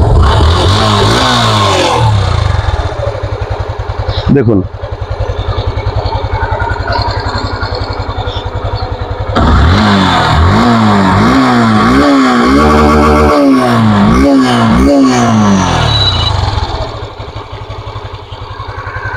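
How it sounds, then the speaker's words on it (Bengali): A 2022 Yamaha Fazer version 2 motorcycle starts and revs hard and near, its engine rising and falling in repeated throttle blips with a brief drop to idle between bursts; a voice speaks briefly. "এখন বাইকটা স্টার্ট করে সাউন্ড কন্ডিশন দেখাবো"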